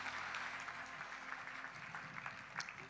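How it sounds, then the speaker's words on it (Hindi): Audience clapping at a devotional bhajan event, a steady, dense patter of many hands sustained throughout at moderate volume, with no speech over it. "पहले तो जोरदार तालियां बजाएं हमारे साईं कृष्णदास जी के लिए"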